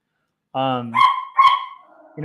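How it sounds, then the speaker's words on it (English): Household dogs bark excitedly at close range, a short burst of a few sharp yelps and barks in quick succession, loud and clear with no talk over them. "the dogs are freaking out because my wife and son are back from their Bible group"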